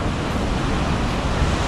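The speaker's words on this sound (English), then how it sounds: "And the waves are really rolling today." Ocean waves roll and surge along the La Jolla coastline in San Diego, a loud, continuous wash of surf mixed with wind buffeting the microphone.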